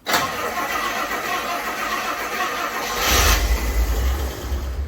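A classic car engine, running during brake bleeding, turns over and catches partway through, then settles into a steady low rumble after a hiss-filled lead-in.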